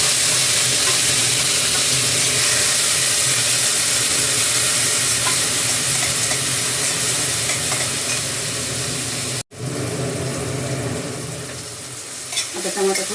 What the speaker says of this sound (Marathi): थोडीशी मोहरी घातली, थोडंसं जिरं आणि जरासा लसूण, टमाटा आणि कोथिंबीर संपेश टाकून घेते.